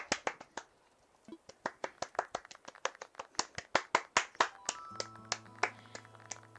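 Animal Crossing: New Horizons villagers clap to vote, a fast series of crisp, close handclaps in uneven bursts, with a brief steady musical tone entering near the end.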